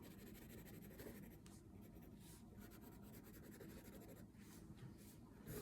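Quiet, continuous scratchy rubbing of a crayon across paper, close up with steady strokes and no pauses.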